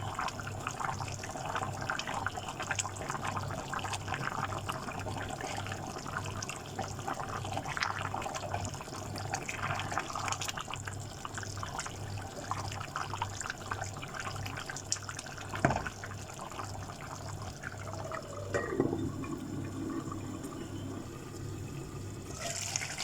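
Water boiling in a pot of kofta pulao on the stove, a steady low bubbling and simmering hiss that runs on evenly throughout, close but fairly quiet.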